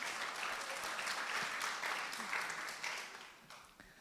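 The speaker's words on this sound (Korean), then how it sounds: "네, 우리 하나님께 영광의 박수 올리겠습니다." A church congregation at a Korean youth worship service claps together, a dense, fairly faint wash of applause that tapers off over a few seconds without speech.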